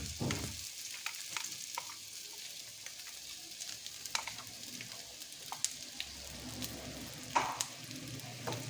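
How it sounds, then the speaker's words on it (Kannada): Chopped onions and ground masala from a mixer fry in a pan for okra palya, giving a steady close sizzle with scattered crackles and occasional stirring scrapes, no voices. "ಈಗ ಈರುಳ್ಳಿ ಫ್ರೈ ಆಗ್ತಾ ಬಂತು."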